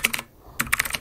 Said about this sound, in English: press Windows R and then type this